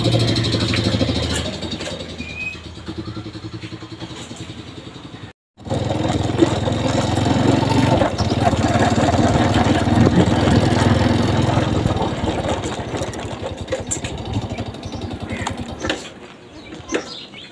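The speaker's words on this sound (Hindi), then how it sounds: "एक किक में मोटर बाइक स्टार्ट करो।" A kick-started motorbike idles nearby in a village, a steady chugging rumble broken by a brief dropout, with people talking over it now and then.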